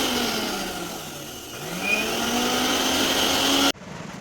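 An electric mixer grinder running off a battery-less inverter whirs with a steady motor drone whose pitch dips and then rises, continuing loud and alone before cutting off abruptly near the end.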